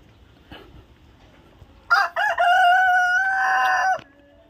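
A rooster crows once, loud and close, in a single long call of about two seconds, after a brief clucking lead-in, set against a quiet farmyard background.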